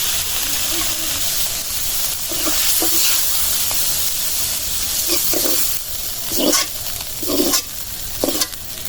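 Water lily stems frying with prawns in a pan, a steady broadband sizzle broken by a few scraping stirs, close and fairly loud, with no voice over it.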